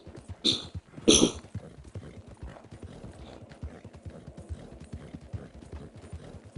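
Horse hooves clip-clopping in Red Dead Redemption 2 Online: two sharp, loud hoof strikes near the start, then a steady run of soft, quick, even footfalls with no talk.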